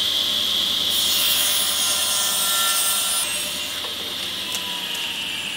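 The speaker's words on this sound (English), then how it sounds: "you want to put that up against the fence and cut it down to the same width as your other one" A saw rips a flooring board to width against the fence with a steady, loud, high whining cut that holds for several seconds and eases slightly near the end, with no voices.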